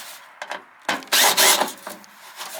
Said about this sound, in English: Let's take our screw out.